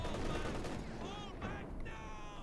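Flak half-track fire raking engineers in Company of Heroes 2, a steady stream of dense gunfire bursts at close range, with a voice talking over the battle throughout.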